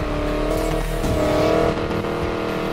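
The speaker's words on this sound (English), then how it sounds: "This Mustang, though, it sounds not even nasty." A 1965 Ford Mustang drift build roars in the racing video game Need for Speed Payback, its engine droning loud and steady with a hint of tire squeal, and no voices over it.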